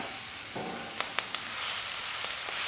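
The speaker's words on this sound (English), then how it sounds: "Let this just kind of simmer on there." Cabbage and Polish sausage sizzling on a Camp Chef FTG600 flat-top griddle, a steady close hiss with a few light clicks from the spatula, no talk.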